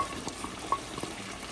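Fried potatoes and their oil go into a simmering curry in a kadai, giving a soft, close sizzle and bubbling with a few faint stirring clinks, quiet and steady, with no speech.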